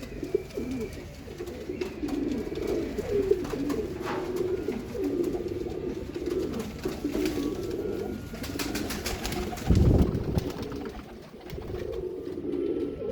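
Multicoloured pigeons coo in soft, repeated low calls close by, a steady murmuring flock with occasional wing flutters and light background clatter.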